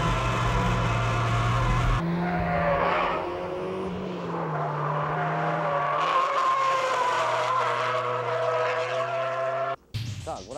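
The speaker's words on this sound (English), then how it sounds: "That's how you drift with oversteer cars like the MR2." A Toyota MR2, an oversteer car, drifting with a sustained loud tire squeal over a droning engine, the pitch shifting as it slides, then a sudden brief cut near the end.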